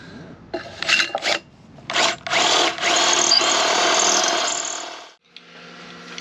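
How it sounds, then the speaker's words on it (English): A power drill bores holes for mounting a custom roof rack on a cheap 4x4, with several short bursts early on followed by one long, loud, steady run that cuts off, then quieter handling noises. "That's a good drill bit, that."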